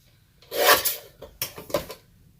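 Scissors cut a strip of paper for a journal tag, giving a few close, crisp rasping snips in quick succession with no voices.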